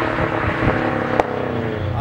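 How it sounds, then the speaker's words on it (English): Subaru Forester STI Type M with a manual gearbox, coilovers and a muffler delete exhaust, its engine droning loud and steady throughout with a brief sharp spike midway, a voice talking over it. "All it's got done basically is coilovers and obviously a muffler delete. As you can hear, it's really loud."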